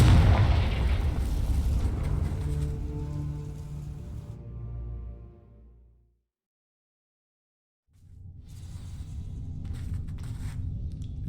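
Confringo fire spell in Hogwarts Legacy: a loud fiery burst and roaring crackle close up that slowly dies away into silence, then ambient game sound returns, no talking.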